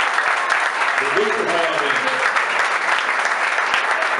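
A congregation at a youth church crusade claps loudly and continuously, a dense wash of applause with a voice speaking briefly over it.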